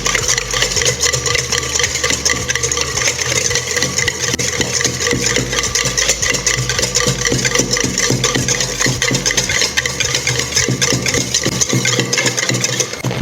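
An electric mixer or blender churns egg, oil and vinegar into homemade mayonnaise, a loud steady motor whir with a low rattling buzz that runs continuously up close, unchanging apart from slight wobbles in pitch.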